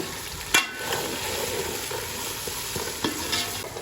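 Red chilies fry in a pan for a chicken and pumpkin curry, giving a steady close sizzle broken by a few sharp stirring clinks and scrapes, with no talking.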